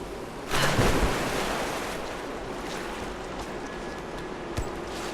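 A waterfall in a video game gives a steady, broad rushing wash of falling water, fairly loud and continuous, with a brief louder swell near the start and a small knock later on.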